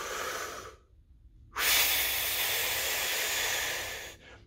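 Forceful two-stage breathing exercise for high-register wind playing: a long hissing breath, a short pause, then a strong sustained exhale of about two and a half seconds, close and loud, ending in a softer trailing breath.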